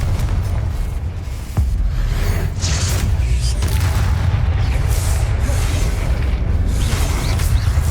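A Confringo blasting spell explosion effect from a wizard-training action game, a sustained heavy low rumbling roar of blasts and debris with sharper bursts, loud and continuous.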